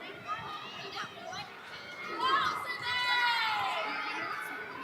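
Swimmers cheer for their friends at a college swim meet, a lively crowd of shouting voices echoing in an indoor pool hall, swelling louder midway.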